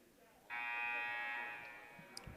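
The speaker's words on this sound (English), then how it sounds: "Buzzer sounds." A loud, sustained electronic buzzer at a high school basketball game sounds once for about a second and then fades, with faint gym noise around it.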